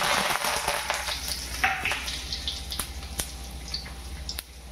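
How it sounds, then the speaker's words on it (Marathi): Cumin seeds and curry leaves crackle and sizzle in hot oil in a pan for a bread pakoda tempering, a steady close frying hiss with scattered sharp pops and no talk. "तेल गरम झालंय, हा जिरा टाकते मी"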